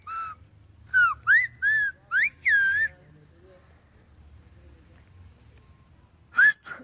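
Whistled language on an island: a run of five short, clear, melodic whistles in quick succession, then a quiet pause and one more whistle near the end.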